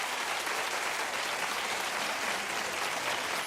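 A television talk-show studio audience claps in a thick, even wash of applause, sustained and uniform across the whole stretch with no talk over it.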